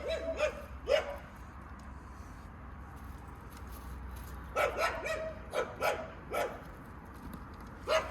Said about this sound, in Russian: Ну что ты рычишь?